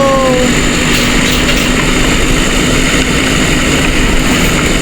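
A vehicle engine drones steadily while driving in the Roblox game A Dusty Trip, a loud, continuous motor hum with no breaks and no talk over it.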